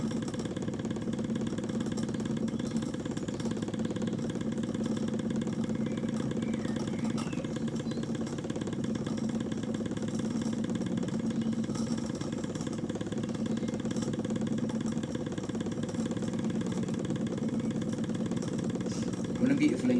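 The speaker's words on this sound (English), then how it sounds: "The engine's tune has changed a bit because I think it's starting to slow down a bit." A Wilesco D16 toy steam engine runs with a steady, even mechanical chugging hum that holds constant throughout, heard close up while someone talks over it.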